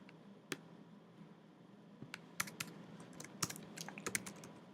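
Typing on a computer keyboard while coding an iOS app: scattered light key clicks, sparse at first and then quicker bursts, close and fairly quiet against a faint hum.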